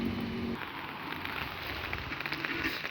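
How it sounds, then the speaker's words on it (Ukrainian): Light rain pattering outdoors at evening, a steady soft hiss of drops with faint irregular ticks, close and continuous with a brief low tone at the start. "Ой, крапає дощик"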